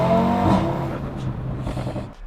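An Audi RS3 engine revs hard and sweeps past, a loud rising growl with harmonic tones that fades as the car moves away.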